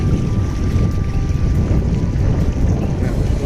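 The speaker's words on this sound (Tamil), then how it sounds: "காற்று அடிக்கிறதுனால காற்று தான் இருக்குது." Strong wind blowing outdoors near a restaurant in Lusail, Qatar, buffeting the microphone with a loud, continuous low rumble that never lets up.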